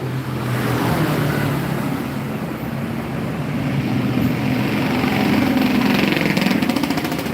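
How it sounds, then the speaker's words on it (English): A steady roar of loud motorcycles passing along a busy street in Bali, with engine drone rising and falling as bikes go by close to the microphone and no voices heard. "plenty of loud motorcycles"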